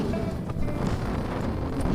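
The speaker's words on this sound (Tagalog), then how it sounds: "Lakas po ng hangin ngayon" Strong wind at a fishing spot buffets the microphone in a steady, loud roar that barely lets up.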